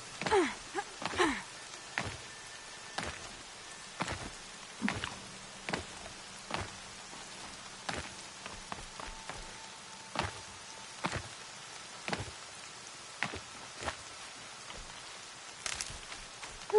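Rain falling in the video game Horizon Zero Dawn: a soft, steady patter with scattered sharper drop-like taps recurring throughout at moderate, fairly quiet level, with no talk over it.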